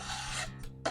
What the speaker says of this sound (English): Just to kind of sharpen the bottom edge and take some of that burr off.